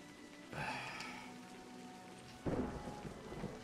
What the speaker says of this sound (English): It's another storm.